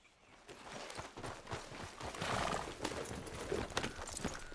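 A horse in the video game Red Dead Redemption 2 walks with steady, close clip-clop hoofbeats throughout, and a whinny rises briefly partway through, with no talking.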